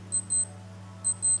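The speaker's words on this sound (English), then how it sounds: "you can press and hold the start button in alarm mode, and it will give beeping sound like this" A Casio AE-1700H digital watch alarm beeps in two quick double-chirp bursts, high and thin, close up over a low steady hum.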